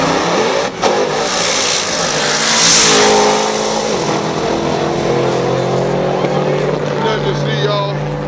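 A Dodge Hellcat and a turbo Camaro launch in a drag race, their engines roaring loudly and rising in a sustained rev, the sound surging close by before settling into a steady drone.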